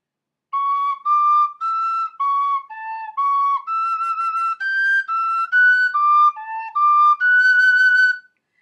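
Tin whistle playing the Pirates hornpipe slowly, clear, close, pure notes in a steady sequence of short separated phrases, played solo with no talk.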